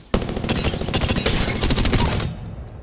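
Prowler weapon in Apex Legends firing in burst mode, a dense loud rapid gunfire run lasting about two seconds, then cutting off into quiet.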